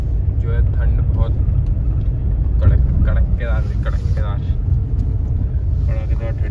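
Steady low car rumble from inside a moving vehicle on a cold early morning, continuous throughout, with people talking over it.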